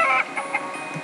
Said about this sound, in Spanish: ¿Qué es eso? Una gallina.